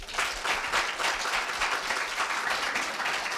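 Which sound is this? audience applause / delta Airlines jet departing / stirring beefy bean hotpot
audience applause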